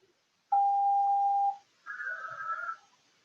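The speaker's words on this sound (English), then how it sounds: "Pardon my noisy phone, that is a tornado alert." A mobile phone sounds a tornado alert, two loud electronic tones in turn: a steady pure beep, a short gap, then a higher buzzing tone, alone in a quiet room.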